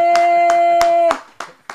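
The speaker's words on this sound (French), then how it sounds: "On applaudit, c'est vraiment fort, c'est fort." An audience on a television variety show claps in time, sharp evenly spaced hand claps roughly every third of a second, first over a held musical tone that cuts off, then alone.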